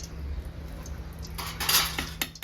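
A metal spoon stirs a filling in mustard oil in a pot during village-style cooking. There is a soft steady scrape, then a louder burst of clinking and scraping against the pot near the end, over a low background hum.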